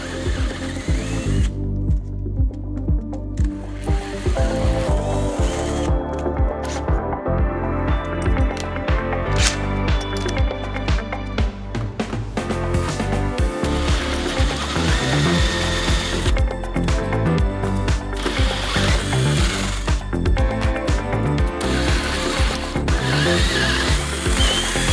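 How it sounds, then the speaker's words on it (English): A power drill bores steadily through the exterior face of a door while a bored lock is installed, a loud continuous whirring grind with rattling and shifts in pitch that runs unbroken for the whole stretch. "now I'm going to drill the exterior face of the door."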